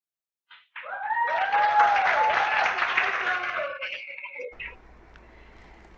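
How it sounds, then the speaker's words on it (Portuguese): A class of students claps in a steady burst of applause that swells quickly, holds for a few seconds, then fades out into quiet room noise. "Muy bien, chicos, aplausos para Roderick."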